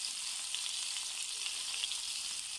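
Spices such as black pepper and curry powder frying in oil in a pan with fava beans, a steady, fairly quiet hiss of sizzling oil with no voices.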